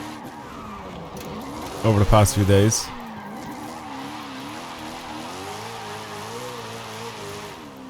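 A car drifts in Forza Horizon 5: an engine hum runs throughout, broken by a short, loud burst of skidding tire squeal, while someone talks over it.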